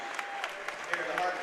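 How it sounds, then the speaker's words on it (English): Audience applause at a school ceremony honoring educators during a boys basketball game, a steady wash of clapping with crisp individual claps standing out, sustained and fairly even in level throughout. "let's give one more big round of applause for these incredible educators"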